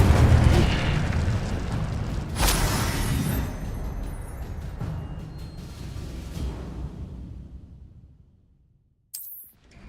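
A fiery blast from the Incendio spell in Hogwarts Legacy erupts loudly at once, with a second burst soon after; the roaring crackle then fades over several seconds, and a short sharp sound follows near the end.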